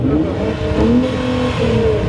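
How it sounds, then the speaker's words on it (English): A Nissan GT-R at a rainy car meet revs hard and close. The engine's tone climbs and falls in a couple of quick pulls over a low rumble. "the GTR is gonna rev it"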